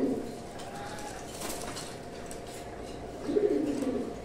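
Just-released pigeons coo in soft, low murmuring bursts at the start and again near the end, with faint background rustle between.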